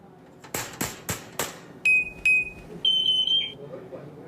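After several sharp knocks, a parrot mimics a smoke alarm with two shrill electronic beeps and then a longer wavering tone, loud and close.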